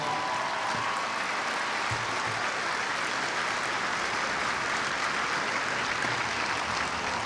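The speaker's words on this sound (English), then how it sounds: "let's give them a round of applause, whoever started that" An audience at a US Air Force basic military training coin and retreat ceremony applauds in a steady, even wash of clapping that stays at one level without pause.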